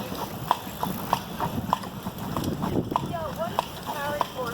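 Carriage horse hooves clip-clopping on a New York City street in a steady, moderately close rhythm, heard under a busy traffic-filled background with people talking.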